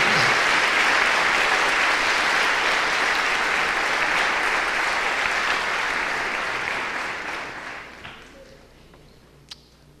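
A church congregation applauds in a steady, dense wash of clapping that holds for several seconds, then thins and fades out toward the end.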